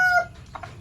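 A feverish chicken with a twisted neck gives a short, tonal cluck near the start, then a couple of softer, brief calls follow at close range.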